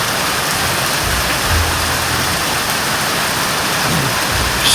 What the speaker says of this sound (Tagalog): Malakas ang ulan mga kaidol.